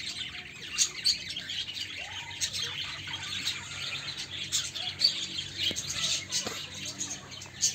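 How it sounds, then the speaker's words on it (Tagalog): African lovebirds chirp and squawk in quick, overlapping calls at a nature park, a busy chatter of several birds nearby with faint background noise. "Ito ay ang African lovebirds."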